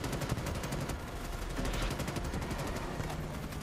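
Rapid automatic gunfire from the video game Starship Troopers: Extermination, a dense, continuous stream of close, loud shots with a few heavier bursts throughout.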